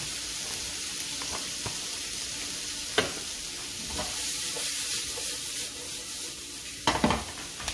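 Garlic sizzles steadily in a hot pan for a seafood ginger dish, a continuous close frying hiss with occasional stirring scrapes and a few louder clinks near the end, no talking.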